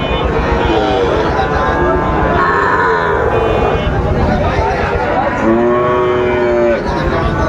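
Cattle moo loudly at a busy livestock market in Chuadanga, with two long calls standing out over steady crowd chatter and talking nearby.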